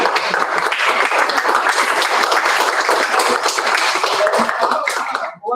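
Steady applause from a group at the close of a meeting, continuous and fairly loud clapping lasting several seconds before cutting off abruptly.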